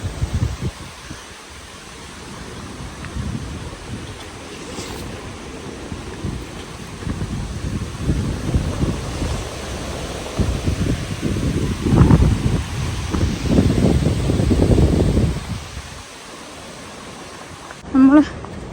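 Strong wind buffets a phone microphone outdoors on a mountain trip in Georgia, a continuous low rumbling roar that swells louder toward the middle and end, with a voice speaking briefly near the close.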